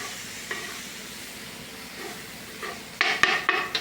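Kangkong (water spinach) and tofu stir-fried for adobong kangkong, with faint sizzling and soft spatula stirring that turns into louder scraping and clattering against the pan toward the end.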